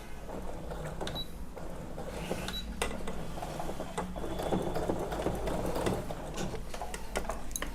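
A Brother DS1300 sewing machine stitching at high speed, giving a steady, fast mechanical whirring and rattling clatter close by that runs without a break, with no talking.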